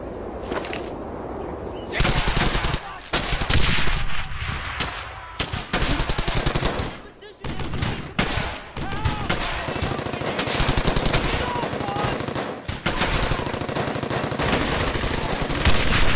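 Machine gun fire in the Brothers in Arms: Hell's Highway video game, long loud sustained bursts of rapid automatic shots with short pauses between them, close and dense, with no talking.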